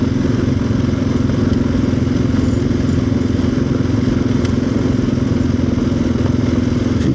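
A motorcycle engine drones steadily up close while tires crunch and clatter over loose gravel, loud and continuous throughout.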